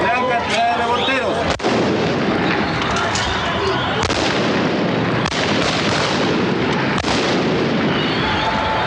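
Sharp gunshots in Santiago street unrest crack out at irregular intervals, several loud reports over a dense, continuous roar of crowd noise and commotion, with voices mixed into the din.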